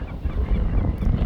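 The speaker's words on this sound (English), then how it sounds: "Baby kelp gull and the parents." Kelp gulls, an adult pair with a chick, giving a short, rough honking call close by, with wind buffeting the microphone.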